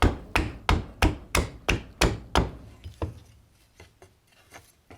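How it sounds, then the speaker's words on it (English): Sharp axe blows chopping into a green walnut branch while shaping a carved ladle, eight loud evenly spaced strikes up close, then a few lighter, fainter taps as the work slows. "I'll trim a little more up out here while we got the axe out."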